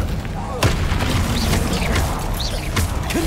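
Incendio fire spell cast in Hogwarts Legacy amid a duel, with several sharp booming impacts and whooshes over continuous rumbling combat noise.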